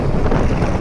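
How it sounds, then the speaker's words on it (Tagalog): Strong northeast monsoon wind buffets the microphone at sea along the coast near Nasugbu, a loud steady roar with no pauses. "Malakas ang amihan mga kabrader."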